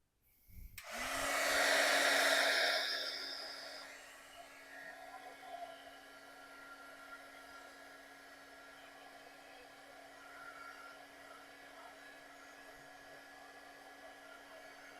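A heat tool blows steadily to heat-set freshly stamped ink, starting abruptly with a loud airy rush that eases after a few seconds into a constant whirring hum.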